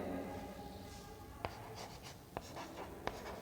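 Chalk or marker writing on a board during a Hindi-language cell biology lecture: steady scratchy strokes with a few sharp taps, close and moderately loud over a faint room hum, no talking.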